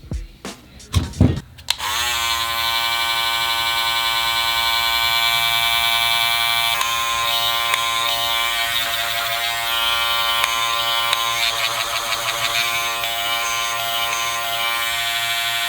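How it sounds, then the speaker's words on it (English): A couple of clicks, then an Andis Cordless Masters hair clipper starts up and runs with a steady, loud, high-pitched electric buzz close by. "I'm going to turn this clipper on"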